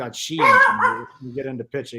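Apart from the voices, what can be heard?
dog barking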